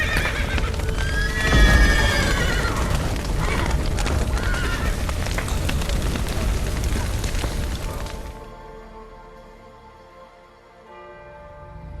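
Horses in The Witcher 3 video game whinny with bright, rising neighs and clopping hooves over a loud, dense game mix for about eight seconds, then the scene drops to a quieter low ambience.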